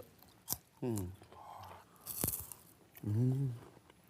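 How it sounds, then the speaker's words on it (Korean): Crisp crunching bites of fried food, with a couple of sharp cracks between short spoken sounds nearby. "바삭바삭하는 소리가 들리시나요? 입속에서"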